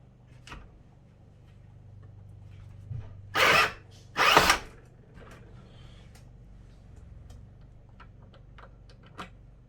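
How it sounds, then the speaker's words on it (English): A power drill driving a cam lock case trimmer to neck ream rifle cases whirs in two short bursts, loud and close, with light clicks and handling taps before and after. "put a drill on this cam lock trimmer, and this is way easier to neck ream these cases with"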